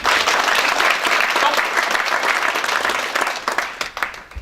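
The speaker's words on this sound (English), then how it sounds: "round of applause for Patrick" At a spring expo, a room full of people gives a loud round of applause for a guest named Patrick. The clapping is dense and sustained and thins slightly toward the end.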